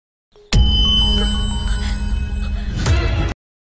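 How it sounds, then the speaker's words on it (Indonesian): A loud incoming-call ringtone from a phone plays continuously for about three seconds, a bright repeating melodic tone that starts abruptly and cuts off sharply, with no talk over it. "Alhasil karena nada dering yang sangat kuat, Vinayagam akhirnya mengetahui keberadaan Pa"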